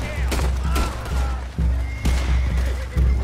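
Horse in Red Dead Redemption 2 neighing loudly several times close by, with hoof clatter and bursts of gunfire mixed in, and a voice talking underneath.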